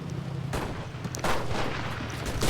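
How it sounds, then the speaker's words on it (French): Gunfire shot into the air in the Enlisted war video game, several sharp booming reports spaced irregularly over a low background rumble. "Lui tire en l'air."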